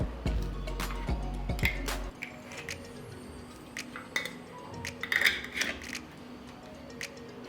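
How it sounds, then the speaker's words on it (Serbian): Glass jars of homemade fruit compote being closed with clean new metal lids, giving scattered close clinks and light taps of lid against glass amid a low background rumble. "na kraju ću sve tegle zatvoriti sa čistim i novim poklopcima"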